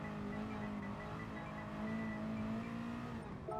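Race car engine in the Gran Turismo Sport video game, a steady droning hum held at fairly constant revs for a few seconds, loud and continuous with no speech.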